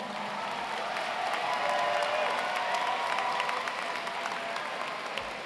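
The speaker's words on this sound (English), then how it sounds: "Let's give them a big round of applause" Sustained, dense audience applause fills a science competition closing ceremony, steady and loud throughout with a faint murmur of cheering mixed in.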